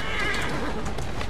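A horse whinnies in the video game Assassin's Creed Syndicate, a short, loud neigh heard up close over rapid clip-clopping hooves and rumbling street noise.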